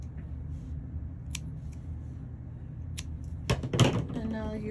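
Scissors cut crochet yarn in a quiet room: a couple of isolated light snips, then a brief cluster of sharper clicks near the end.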